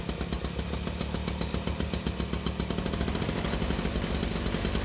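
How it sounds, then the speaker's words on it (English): An old German military two-stroke generator engine that sat for 30 years runs at a fast, rattling, steady pulse, loud and close with no voices. "German two-stroke engine sitting for 30 years. Will it run?"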